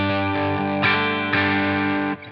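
Electric guitar played through a Line 6 Helix on a darker tone setting, sustained chords ringing with rich harmonics, changing twice before cutting off, clean and close with no talk.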